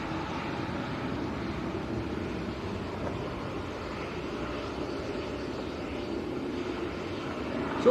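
An airliner departs Manchester Airport outbound to Fuerteventura, its engine roar a steady, broad rumble that holds at an even level throughout, moderately distant, with no talking.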